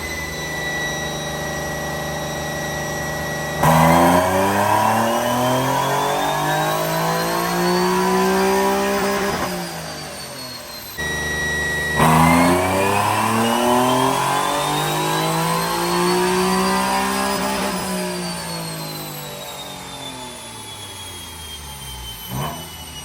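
Nissan 370Z fitted with catless test pipes and a flame tune roars through a dyno pull, engine pitch climbing steadily to a high-rev wail, easing off briefly, then sweeping up again in a second loud run.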